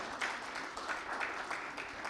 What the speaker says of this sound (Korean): 박수 한번 쳐보십시오.